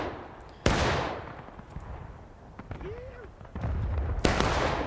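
Scattered musket shots in the Civil War game War of Rights, a few sharp reports spread across the scene with distant battle noise between them.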